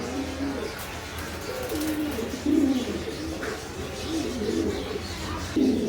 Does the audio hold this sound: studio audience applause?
no